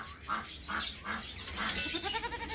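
A goat let out of its pen bleats in a quick run of repeated, close calls, about six in a row, with no talk over them.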